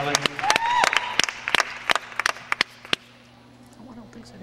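Scattered hand claps from an audience at an awards ceremony, a quick burst of sharp claps that thins to a few isolated ones, with people talking nearby.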